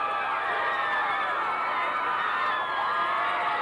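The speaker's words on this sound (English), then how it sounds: "the fans are cheering now" A large crowd of fans at a 1995 high school baseball game between Flint Powers and Kearsley cheers and whoops continuously, dense and steady, with shouted voices blending into a loud, sustained roar.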